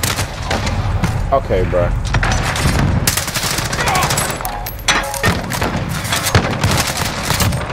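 Heavy automatic gunfire from enemies in a first-person shooter game, loud and nearly constant with rapid bursts and booms, while a voice talks over it.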